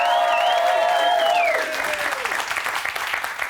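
Studio audience applause and cheering greet the first evictee at a Big Brother 2018 live show, a loud, dense crowd roar with whoops over steady clapping that settles slightly toward the end.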